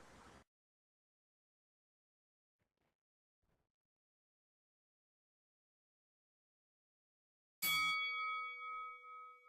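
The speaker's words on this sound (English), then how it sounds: "And there's the bell." A wrestling match bell in the Second Life game rings out once, loud and bright with a long metallic ringing decay, after a stretch of near silence.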